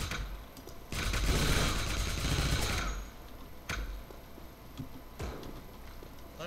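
STG-44 assault rifle fire in the video game Wolfenstein, one sustained burst of rapid shots followed by a few sharper single cracks, fairly quiet overall.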